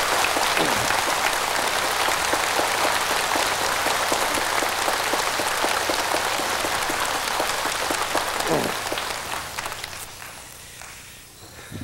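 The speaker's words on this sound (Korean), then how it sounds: "우리 저분들에게 한번 박수 한번 주십시오" Dense, sustained audience applause filling a hall for about nine seconds, loud and continuous like heavy rain, then thinning out and fading near the end.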